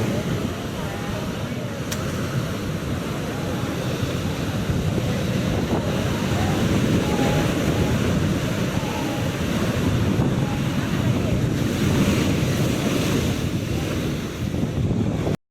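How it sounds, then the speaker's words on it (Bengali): Steady roar of sea surf at Old Digha beach, with wind buffeting the microphone, continuous and loud throughout, with faint voices underneath. "মারাত্মক ঢেউ আসছে ওল্ড দীঘাতে"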